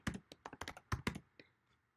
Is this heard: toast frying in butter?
no